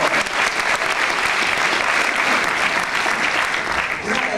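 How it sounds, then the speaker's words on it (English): Sustained audience applause at a high school senior party hypnotist show, a dense, steady wash of many hands clapping close and loud throughout, with a few shouts rising near the end. "Big round of applause for her."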